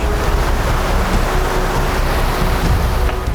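Fast water rushes through a deep stream in dense forest as a loud, continuous broadband roar that stays steady and close with no pauses and no voices.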